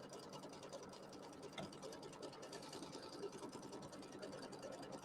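Embroidery machine stitching a small outline like a seam allowance line on a quilt block, a quiet, rapid and steady mechanical chatter close by.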